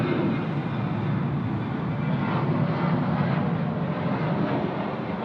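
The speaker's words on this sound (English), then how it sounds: "Just wait for this Qantas to depart." A Qantas airliner departing Sydney Airport: a steady, loud broadband jet roar that holds evenly throughout without any break or voices.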